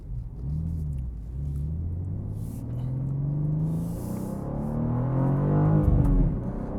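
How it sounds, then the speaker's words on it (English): Deep exhaust rumble from a 2024 BMW G87 M2 manual while driving on a road, steady low drone that rises gradually as the engine pulls, heard from inside the car with no talk. "Another thing I notice about this car is the exhaust seems a little louder."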